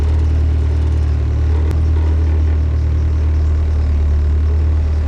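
The diesel engine of a TJ Wrangler fitted with a doubler drones loudly and steadily as the Jeep rolls along in neutral off-road, a constant heavy low hum heard close.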